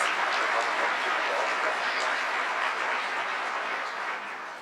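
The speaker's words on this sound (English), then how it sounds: "Deserve a round of applause." A large room of people applauding a team at a disability-rights anniversary event, with steady, dense clapping held at a loud level for the whole stretch and easing off slightly near the end.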